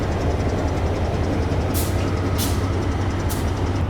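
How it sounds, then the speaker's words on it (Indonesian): A BB303 diesel locomotive, number 8407, hums steadily and smoothly up close with a low, even engine drone, punctuated by three short bursts of hiss. "di depanku ini langsung lokomotifnya ya, BB303 8407. Dengan suara mesin yang ciri khas nih, nong halus gitu"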